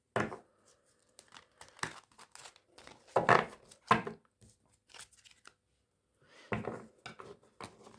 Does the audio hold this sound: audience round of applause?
no